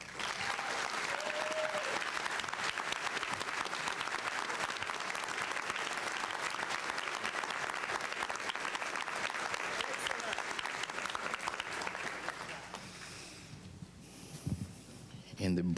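An audience gives a speaker, Ms. Jackson, a sustained round of applause, a dense wash of clapping that holds steady for about twelve seconds before thinning out and fading near the end.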